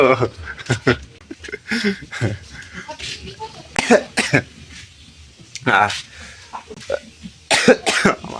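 Several sharp, dry coughs break out in bursts between stretches of talking, close to the listener.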